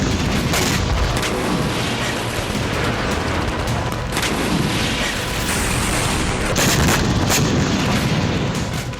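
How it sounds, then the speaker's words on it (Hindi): Tank fire and MLRS rocket artillery attacks in Kharkiv, a dense continuous barrage of booms and bursts with several sharper blasts, loud and unbroken. "टैंक और MLRS से ताबड़तोड़ हमले हो रहे हैं"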